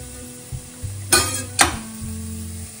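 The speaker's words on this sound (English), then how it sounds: "Now it's frying potatoes and onion" Small-cut potatoes and onion frying in a pan, a steady soft sizzle broken by two sharp utensil scrapes and light clinks, close and without talk.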